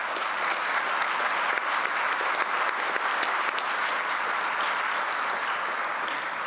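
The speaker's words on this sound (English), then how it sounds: "Let's give them a round of applause." Steady, dense applause from a large audience at a community college commencement ceremony, continuous and even throughout with no talking over it.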